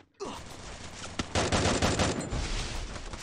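AN94 assault rifle in a video game fires a sustained, loud burst of rapid automatic shots, with a sharper crack partway through and dense gunfire continuing to the end.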